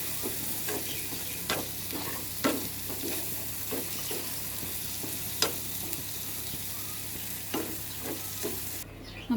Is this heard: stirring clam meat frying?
yes